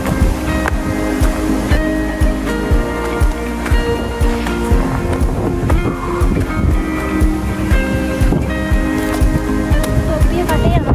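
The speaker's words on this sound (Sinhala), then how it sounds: "දැන් හොඳටම පේන ඇල්ල." A waterfall roars in heavy rain at a rainy-night camping spot, a dense continuous rush of water with a loud, surf-like wash and a person talking over it throughout.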